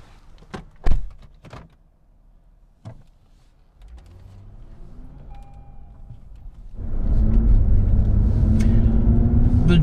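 A car starting off for a drive: door and interior clatter, then the engine catches and settles into a loud, steady low rumble close by as the car gets under way.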